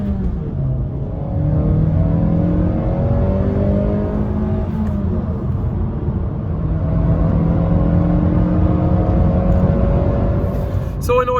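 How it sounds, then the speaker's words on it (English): A 2016 Honda Jazz (Fit GK3) with a 1.3 VTEC engine accelerates onto a motorway, its whirring engine note rising steadily through the gears with brief dips at each shift, loud and continuous from inside the car. "Let's see how it accelerates just as we join the motorway."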